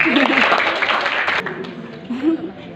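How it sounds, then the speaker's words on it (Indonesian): A small audience at an Indonesian expedition final presentation breaks into applause, steady clapping that fades over a couple of seconds while voices talk and call out underneath. "Tepuk tangan buat Bang Heru."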